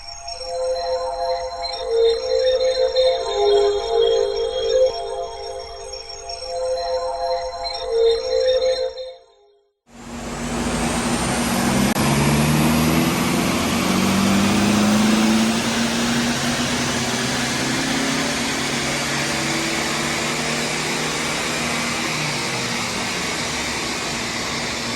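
Honda Civic 2.2 i-CTDI diesel engine on a dyno: a steady hum cuts out briefly, then a loud, sustained broadband roar builds and holds near the microphone under load.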